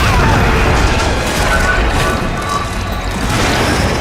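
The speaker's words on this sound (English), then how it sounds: "I keep throwing the grenades hoping that I'm going to hit him" Grenade explosions in Resident Evil 5, heavy booming blasts and crashes that fill the clip continuously and loudly, with no clear pause between them.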